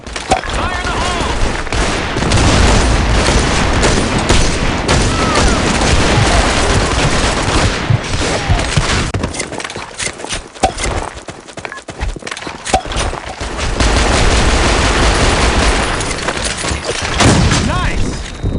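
Grenade blasts and rapid gunfire in the shooter game Blackshot pound loudly and almost continuously, with dense overlapping shots, a brief lull midway, and game voices calling out over the action.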